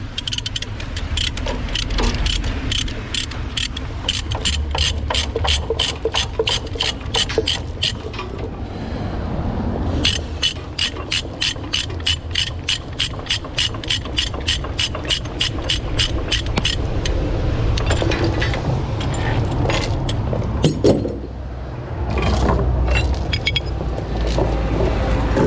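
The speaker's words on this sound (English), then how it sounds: "Whilst we're this side, we'll get these chains" Chains are undone on a lorry load beside an HGV, a loud stretch of metallic rattling and clinking in rhythmic bursts over a steady low engine rumble, with no clear talk.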